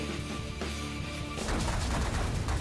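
Spaceship in The Last Federation space game firing point-blank into a pirate base, a dense barrage of rapid explosive gunfire and blasts that thickens and grows louder midway, with no talking.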